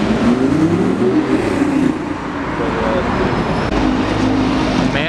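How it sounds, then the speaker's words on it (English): A Mansory Mercedes G-Wagon drives along a busy London street, its engine a steady rumble blending with loud traffic noise, with a voice heard over it. "Mansory G-Wagon again."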